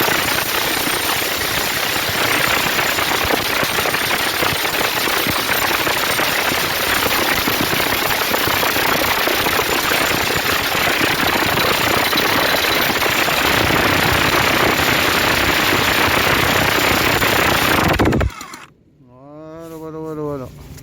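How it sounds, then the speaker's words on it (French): A freshly greased electric jackhammer, just repaired, pounds at a rapid, relentless rate, loud and close for about eighteen seconds before cutting off, followed by a brief voice. "Et après, voilà, le marteau, il tape super bien."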